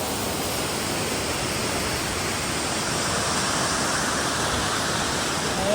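A waterfall at Upper Kananaskis Lake in Alberta roars nearby, a loud, dense and unbroken rush of falling water with no other sounds heard.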